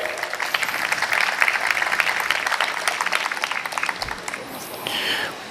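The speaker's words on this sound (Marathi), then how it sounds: "आपण सर्व अतिथींचं या ठिकाणी जोरदार टाळ्या वाजवून स्वागत करूया" Audience applause at a lecture series event welcoming guests to the stage, a dense steady clatter of many hands filling the room, with a voice briefly audible near the end.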